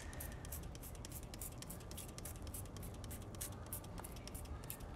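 Repeated quick bursts of citrus gel wheel cleaner spraying from a trigger bottle onto a wheel rim, close and rhythmic, about a dozen hissing pumps in a row.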